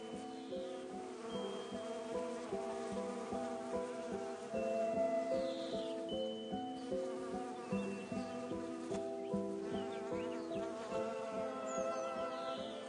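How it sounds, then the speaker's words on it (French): Bees buzzing around spring flowers: a close, continuous droning hum with overlapping wingbeat tones drifting up and down as insects pass, steady and alone without any talking. "Le printemps, je le dois plutôt à ces abeilles."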